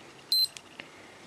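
Armitron M0922 inverted-display digital watch giving a short, close, high-pitched electronic alarm beep, followed by two fainter brief chirps from its buttons.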